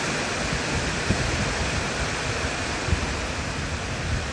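Heavy rain and strong wind in a rural setting during the rainy season, a steady dense roar of rain and gusting air filling the whole clip at close range, with no voices.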